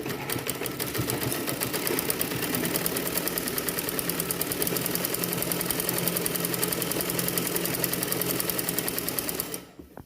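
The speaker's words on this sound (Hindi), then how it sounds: "अब इसमें हम फिटिंग सिलाई मार लेंगे" A sewing machine stitches a blouse collar in one fast, even run of rapid mechanical clatter, close and loud, holding a steady pace before stopping abruptly at the end; no one speaks.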